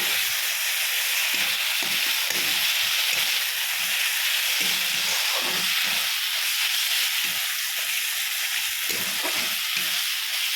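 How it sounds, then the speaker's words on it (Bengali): Fish frying in a pan with roasted cumin, chili and a little added water gives a loud, dense, unbroken sizzle and hiss up close, with soft bubbling and stirring underneath and no speech. "এখন একটু ভালো করে ভেজে নিই।"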